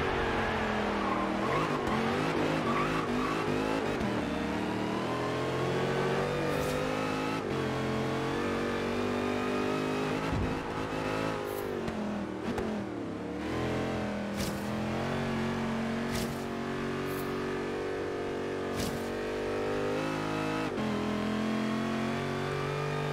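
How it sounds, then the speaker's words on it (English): A Mercedes C63 AMG in Forza Horizon 3 accelerating hard through the gears, its engine revving steadily upward with brief dips at each shift, loud and continuous the whole way through. "That engine pulled all the way through."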